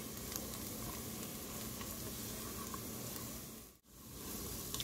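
Corn mixture sautéing in a pan for Brazilian chica doida corn soup, giving a steady, close, loud sizzle and crackle throughout with one brief dip near the end and no voices.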